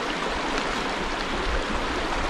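A clear river in Puerto Rico, running after heavy rains, makes a loud, continuous rushing flow close by. The broad wash of water stays steady throughout, with no talking.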